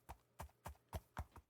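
Horse hooves clip-clopping at a steady walking rhythm while being ridden in a video game, five crisp close hoofbeats, fairly quiet.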